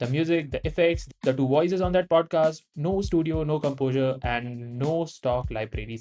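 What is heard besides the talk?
None of the usual background noises is heard.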